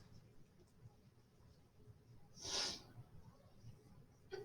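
A single short, breathy sneeze around the middle, sharp and hissy, standing out against a quiet, low background rumble in a lecture.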